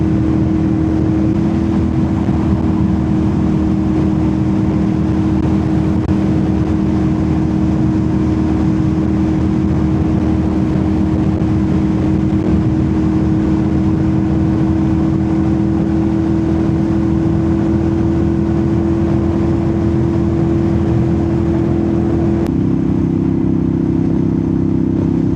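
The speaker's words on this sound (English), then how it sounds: "The zen of the motorcycle ride." A 2012 Ducati Monster 659 engine drones steadily at cruising speed on a desert countryside road, loud and close with constant wind rush, the pitch shifting briefly near the end.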